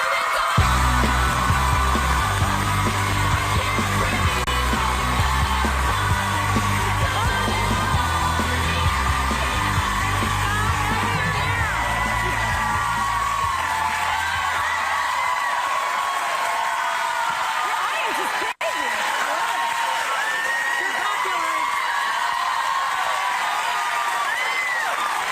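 Studio audience at a television talk show screaming, whooping and cheering for the host, a dense, sustained roar of crowd noise with music underneath at first, steady and loud for the whole stretch.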